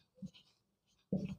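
Chalk or marker writing on a classroom board, two short scratchy bursts a second apart, the second louder and closer, with no talk over it.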